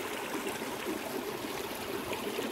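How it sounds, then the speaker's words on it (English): Spring water flows steadily out of lava rock at Lava Springs along the Pacific Crest Trail, a close, continuous rushing trickle with no pauses and no voices. "the water comes out of the lava rock"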